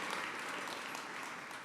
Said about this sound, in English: I was waiting for the clap